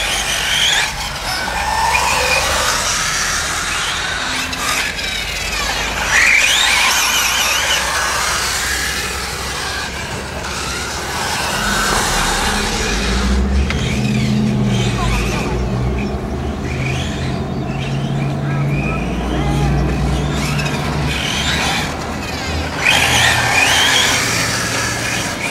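Rodger's hobby truck tears around at a hobby track, a continuous buzzing motor whine that rises and falls with bursts of revving and skidding, fairly loud and close.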